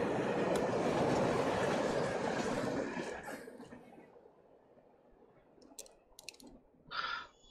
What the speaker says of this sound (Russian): Поезда ездят.